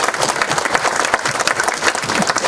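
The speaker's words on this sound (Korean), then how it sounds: "공감하시면 박수를 쳐달라고 그러려고 했는데 여러분들이 먼저 그렇게 해주셔서" An indoor political audience breaks into dense, sustained applause, many hands clapping loudly and close together, with no voices rising above it.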